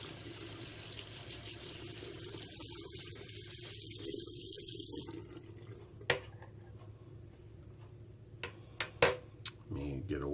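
Water runs steadily from a tap into a sink as an electric shaver is rinsed off, then cuts out, followed by a few sharp clicks and light handling knocks close by.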